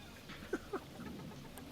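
Two short clucks from farm hens sound close together near the start, over a soft background of farmyard murmur.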